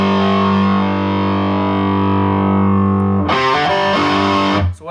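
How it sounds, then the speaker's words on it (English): A sustained electric guitar note rings out, then a hammer-on kicks in a distortion effect, turning the tone into a loud, gritty, saturated burst of notes before cutting off. "And now when we hammer on, we're gonna kick the distortion on."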